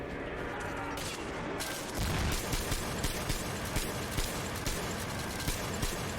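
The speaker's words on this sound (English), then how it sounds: "very slow firing minigun. Okay, it just takes a while to wind up" A slow-firing minigun in the game Metro Exodus winds up and then fires in a fast, steady stream of heavy shots that fills the clip, with rattling bursts throughout.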